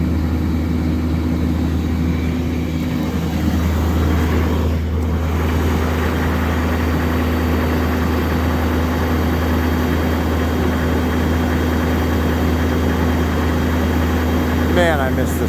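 A Chevy truck engine runs steadily after a cold start in freezing weather, having sat almost two weeks, a loud continuous low idle drone that persists throughout.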